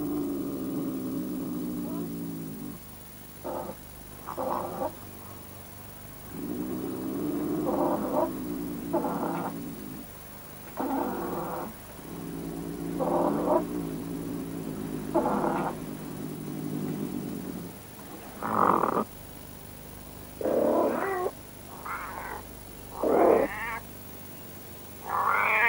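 Wildcats fight in the snow, giving drawn-out yowls and wavering caterwauls in several separate bursts, moderately close against quiet outdoor background hiss, with a low drone in the first half.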